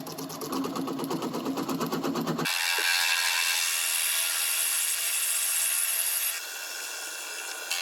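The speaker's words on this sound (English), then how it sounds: "drill a hole in here with the Forstner bit, just to make the hollowing a little bit easier" A Forstner bit in a lathe tailstock bores a hole into a rotten, spalted wood bowl blank. A rapid rhythmic chatter gives way to a loud, continuous grinding hiss of cutting that eases slightly near the end.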